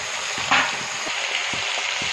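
Chopped vegetables hit a pan of fried onion for a fish head chorchori, a steady hiss of sizzling with a few soft knocks from stirring, close up and no voices.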